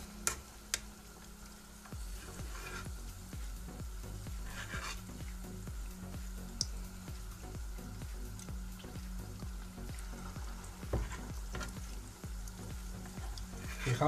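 Spoonfuls of buñuelos de viento batter sizzle and bubble in oil in a frying pan, a steady close crackle running throughout with light clicks and utensil taps, no voices.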